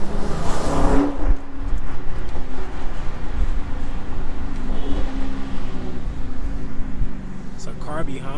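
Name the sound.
car driving behind in downtown Chicago traffic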